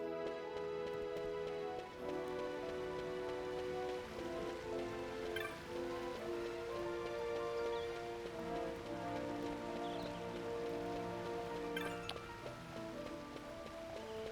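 Steady rain falls across the plains in Final Fantasy 12, a soft continuous patter laid under game music with layered melodic tones throughout, no voices present.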